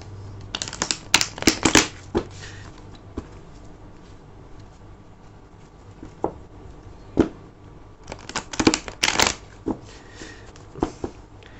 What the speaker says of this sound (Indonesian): Kita akan shuffle dulu kartunya ya.